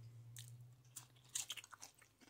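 Crunchy freshly grown bean sprouts being bitten and chewed close up, a quiet run of sharp crisp crunches that grow quicker and denser toward the end, over a low steady hum.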